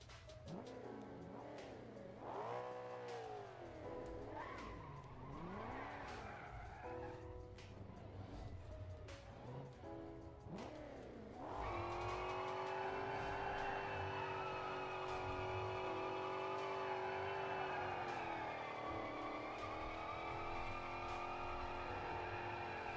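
A Holden VY Ute's engine revs in rising and falling sweeps inside a video game, then gives way to a sustained, loud tyre squeal from a skid that holds steady to the end.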